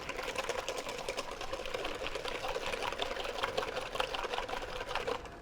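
Eggs and sugar are whisked in a bowl with quick, steady, faint ticking strokes that continue without a break and without talk.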